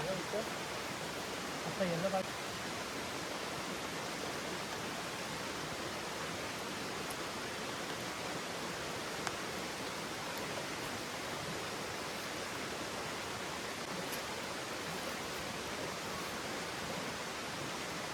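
A steady, dense hiss of heavy rain pours down at a night campsite, unbroken throughout, with a faint voice briefly audible near the start.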